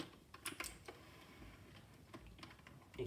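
A cheap plastic gaming keyboard part being pushed into place during assembly, giving faint, irregular small clicks and snaps spaced through a quiet room, close to the microphone.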